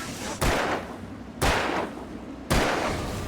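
Three heavy gunshots from a firearm in the Alan Wake video game boom at roughly one-second intervals, each a loud sharp blast with a short ringing decay.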